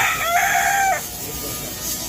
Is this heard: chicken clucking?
yes